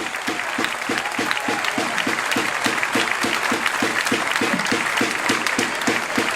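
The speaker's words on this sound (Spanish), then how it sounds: "Un aplauso." Audience applause at a memorial tribute to care-home victims of the pandemic in Madrid, a dense steady clapping from a large crowd that holds evenly throughout with no voices over it.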